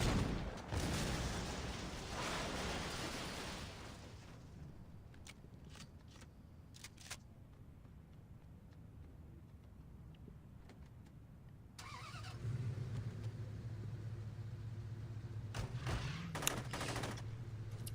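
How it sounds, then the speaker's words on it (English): Cars blown up with shotgun fire in a Saints Row-style video game, with bursts of loud blasts and rapid gunfire, crackling explosions, then a quieter stretch of engine hum before more shots and rumble. "I'm going to be using a few different ways to blow up the cars. Of course, shotguns are always a good bet."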